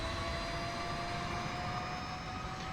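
An A-10 jet engine in a flight video game, during a landing on a Navy aircraft carrier, gives a steady, even drone with a faint whine on top and no break.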